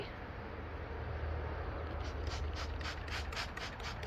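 A spray bottle gives a steady hissing spray of water throughout, followed by a quick series of rhythmic squirting pumps close by, dampening seeds on a seed roll-up.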